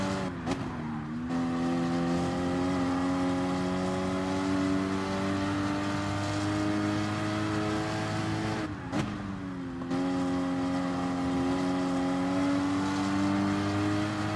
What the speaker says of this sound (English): I do like driving this car, the Cayman.